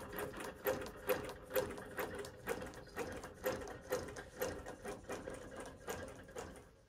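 A long-arm quilting machine stitches a row across a quilt, giving a steady mechanical ticking and whirring with rhythmic pulses about every half second, close and moderately quiet, with no voices.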